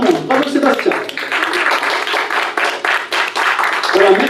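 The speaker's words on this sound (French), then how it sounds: "Allez, on peut les applaudir, bravo" An audience at a youth environmental festival claps for contest candidates, uneven bursts of hand clapping mixed with an announcer's voice talking over them.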